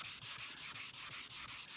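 Sandpaper rubbed back and forth over a rosewood guitar fretboard, a close, steady scratchy rasp in even strokes about every fifth of a second.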